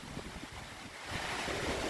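Strong wind from a summer storm roars steadily with a broad rushing noise, getting louder partway through, with no talking.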